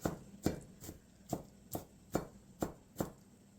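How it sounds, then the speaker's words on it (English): Knife chopping on a cutting board, eight steady thuds at a regular rhythm, close and clear with no talking. "Today I'm chopping with Rhonda."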